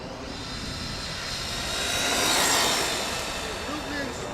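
A Rlaarlo XTS-F10 metal RC rally car with a brushless motor drives past as a smooth, rising and falling whine and rush that swells near the middle and fades, with people talking faintly under it.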